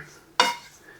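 A spoon scrapes and clinks once against the pot while stirring a cheddar ranch beef casserole mixture, a single short metallic scrape close by in an otherwise quiet kitchen.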